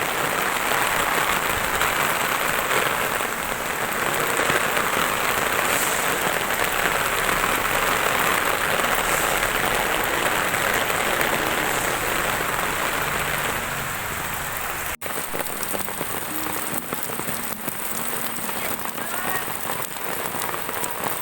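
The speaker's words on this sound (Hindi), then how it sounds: "इतनी जोर की बारिश है ना" Heavy rain pours down in a steady, dense hiss that stays loud and constant throughout, then drops slightly near the end, with no voices.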